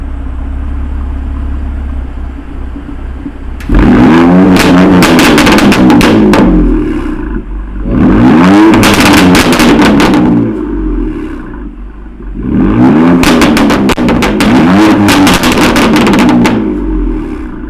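A car with an M Performance exhaust in Sport Plus mode idles with a low rumble, then revs loudly three times, each rise crackling and roaring up before dropping back to a deep idle.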